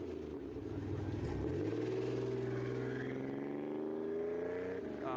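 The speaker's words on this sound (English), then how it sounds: "As I jump in it, you can hear the growl of the 2-stroke." A buzzy two-stroke video game vehicle engine with dual exhaust pipes growls and climbs in pitch as it accelerates steadily, a continuous loud rasping drone with a brief revving hitch at the start.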